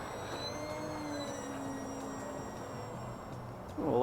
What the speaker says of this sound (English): Oh, a lovely little airplane.